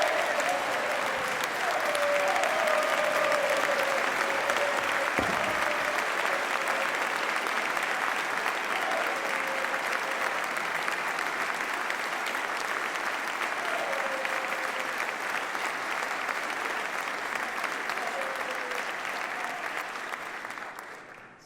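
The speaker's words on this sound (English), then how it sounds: "Somebody had to get more applause than Max." A large audience applauds at the Massachusetts State of the Commonwealth Address, with loud, dense, continuous clapping for about twenty seconds before it fades out at the end.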